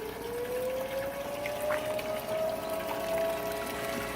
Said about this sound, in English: I guess there's an air raid coming.